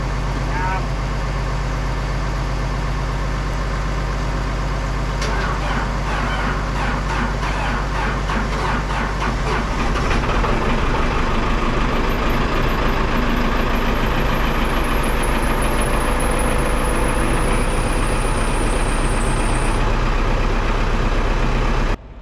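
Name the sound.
swather engine starting and running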